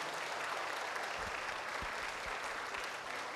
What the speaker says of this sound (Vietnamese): Xin pháp hội cho một tràng pháo tay cùng đón nhiếp trung vương.